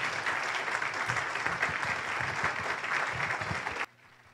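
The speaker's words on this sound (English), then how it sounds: "Ladies and gentlemen, big round of applause." An audience bursts into sustained, dense applause, many hands clapping steadily at a strong level before it cuts off abruptly near the end.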